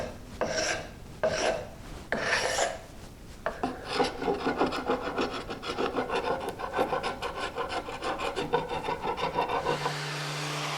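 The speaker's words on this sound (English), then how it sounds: "that's sanded to the 100." Sandpaper at 100 grit rubbing back and forth on the wooden rods of an antique coat and bookbag rack, first in a few separate strokes and then as a continuous, steady rasping close by.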